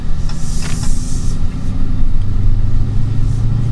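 A 2023 Dodge Challenger R/T muscle car's V8 rumbles loudly up close, a deep, steady, throbbing engine drone with slight rises in intensity and no talk over it.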